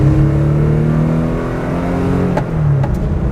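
A Porsche 911 Carrera T flat-six revs loud and close in a short, harsh, metallic burst, its pitch sagging slightly toward the end.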